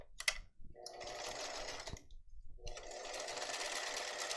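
A sewing machine sews down a purse-size tote bag in two steady runs of whirring stitches, with a brief pause and a click between them, close and moderately loud.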